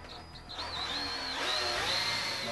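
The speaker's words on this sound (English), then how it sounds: "Now using our 3/8 drill bit, we drill through." A power drill with a 3/8-inch bit whines steadily, its pitch rising and falling as it bores through a golf cart seat armrest, close and continuous.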